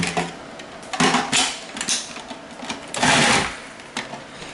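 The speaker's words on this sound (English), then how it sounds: "we would take and do these in a food processor" Food processor slicing potatoes for gratin dauphinoise, bursts of whirring and clattering as pieces drop through the blade, loud and close, stopping and restarting in uneven spurts without talking.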